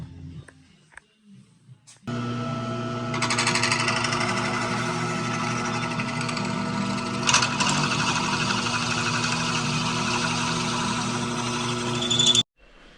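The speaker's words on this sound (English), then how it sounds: "Then we're gonna drill with our pilot drill. Then we're gonna ream after that." A pilot drill whines steadily for about ten seconds as it bites into a metal motorcycle swingarm part, a loud continuous grinding drone that starts abruptly and cuts off at the end.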